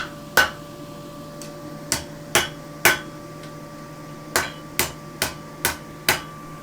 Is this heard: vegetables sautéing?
no